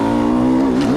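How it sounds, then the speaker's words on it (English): A Lug 250 motorcycle engine holds a loud, close, steady rev with a strong buzzing tone that dips slightly in pitch near the end. "Listen to that bike."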